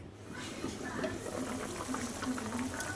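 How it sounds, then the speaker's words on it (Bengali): A pot of potato and green banana curry with lentil dumplings boils steadily, a close, continuous bubbling and popping at low volume with no break. "তরকারিটা ফুটে গেছে টকবক করে ফুটছে তরকারিটা"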